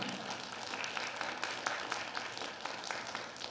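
A lecture audience at NH Nonghyup Bank gives quiet, fairly distant applause, a continuous patter of many hands with small peaks throughout.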